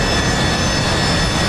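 A Harrier jet engine at full power in the flight simulator DCS, a loud, steady broadband roar with a constant whine and no talking.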